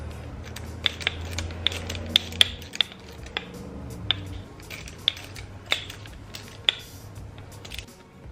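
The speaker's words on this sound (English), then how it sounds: "once you get them started, you can go ahead and snug them down with your ratchet" Ratchet snugging down nuts on coilover suspension with top hats during an air suspension install on a car; a series of sharp metallic clicks at an uneven rhythm, close and fairly quiet, over a low background hum.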